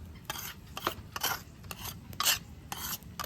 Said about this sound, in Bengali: মরিচটা আর আদাটা ভালোভাবে আদা বাটা করে নিচ্ছি বন্ধুরা